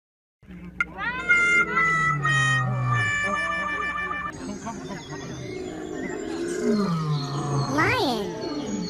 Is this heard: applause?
no